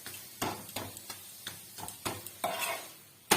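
Paratha cooking in a pan, a series of short scraping and tapping strokes from a spatula against the pan, set roughly evenly apart, over a faint sizzle in the background.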